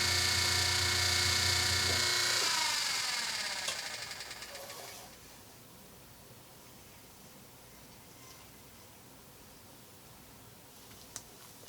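A potter's wheel motor hums loudly with a steady tone while an 18 lb mound of clay is centered for an extra large platter, then winds down and stops about five seconds in, leaving near silence.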